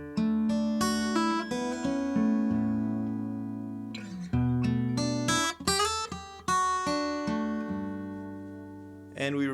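A fingerstyle guitar picks out a dreamy arpeggiated melody, clear and close, with ringing notes overlapping in a steady flowing rhythm and a brief pause midway before the phrase resumes.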